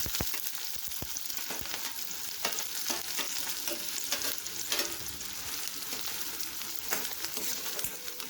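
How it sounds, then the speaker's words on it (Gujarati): Medium-cut onion with cumin frying in hot oil, a dense, close sizzle with frequent crackles and stirring scrapes throughout, no voices. "જીરું થોડું ચટકે ત્યારબાદ આપણે એમાં મીડિયમ કટ કરેલી ડુંગળી એડ કરી દઈશું"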